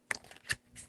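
Tarot cards being shuffled by hand in three quick riffling bursts, soft and close, with brief pauses between them.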